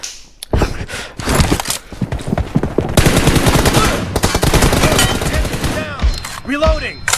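Rapid bursts of automatic gunfire from an online multiplayer shooter game, loud and close with short pauses between volleys, and a voice briefly audible underneath.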